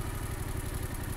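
A motorcycle engine of about 50 to 80 cc runs under light load as the clutch engages. It gives a quiet, steady, rhythmic low thrum with faint mechanical clatter, close by and alone.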